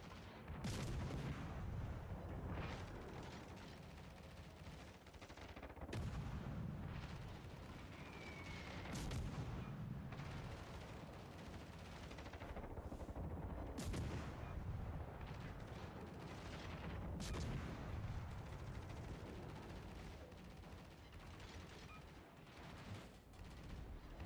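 Enemy gunfire in a shooter game, repeated sharp reports and booming blasts arriving in irregular bursts over a dense, continuous bed of battle noise, loud and close throughout with no voices.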